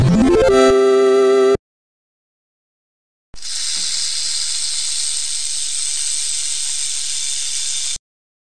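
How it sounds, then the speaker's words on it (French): A snake from a preschool educational animal game gives one long steady hiss lasting over four seconds, loud and close, after a brief rising musical jingle and a moment of silence. "Serpent."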